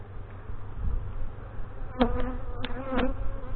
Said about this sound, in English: there's a lot of bees right in this general area